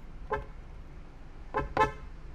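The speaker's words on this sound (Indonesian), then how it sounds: "bunyi klaksonnya tuh kayak begini" A car horn honks three times, a single short toot followed after a pause by two quick ones, close and clear over a quiet background.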